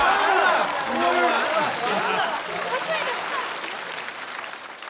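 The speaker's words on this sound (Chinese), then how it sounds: "谢谢观众的掌声" Audience applause at a stand-up comedy show, a steady wash of clapping and crowd noise under loud voices and chatter throughout.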